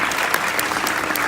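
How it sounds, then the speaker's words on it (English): Audience applause for Pastor Rolando Rostro at a ceremony in Memphis, Tennessee, a brief dense burst of steady clapping from a crowd, fairly loud and without voices. "So give him a round of applause if you would"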